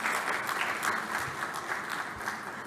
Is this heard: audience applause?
yes